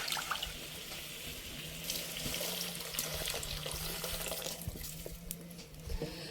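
A water and flour mixture pours into a cooking pot in a steady splashing stream, close and moderately loud, with small clinks and no talk over it.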